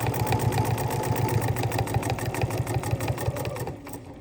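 A sewing machine stitches a paper-pieced gingerbread house quilt block, a close, rapid, even mechanical whirr of the needle running steadily, then slowing and easing off at the end.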